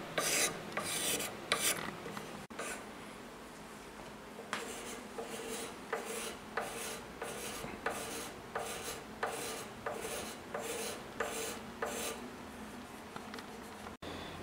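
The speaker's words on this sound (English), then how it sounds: "For the fingerboard work, we can use a scraper." A hand scraper is drawn repeatedly across a guitar fingerboard, giving a steady run of about a dozen close, rasping strokes in a regular back-and-forth rhythm with no talk.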